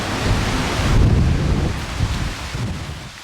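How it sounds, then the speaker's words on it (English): Heavy wind buffets the microphone in a steady, loud rumbling roar that surges and eases, with no other sound evident. "It's been really windy, so I hope you can hear me."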